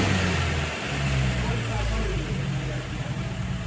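An MG TF car engine held at high revs, a steady close-up drone with a person talking over it.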